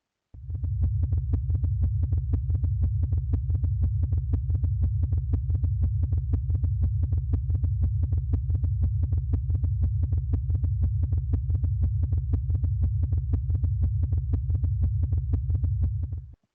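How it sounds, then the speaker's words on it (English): Sonified vibrations of a star, a low throbbing hum pulsing in a steady, rapid heartbeat-like rhythm, evenly repeating beats throughout at moderate level. "you can still hear this really distinctive rhythm in the vibrations in this star."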